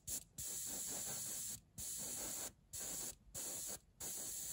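An airbrush sprays paint in short hissing bursts while its compressor is switched off and pressure drops, five or six close spurts separated by brief silences, with no talking.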